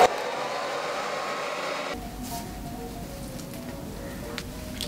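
A hair dryer blowing on hair, a steady close whoosh that drops to a softer, lower airflow about two seconds in and keeps running to the end, with a few light handling rustles and no talking.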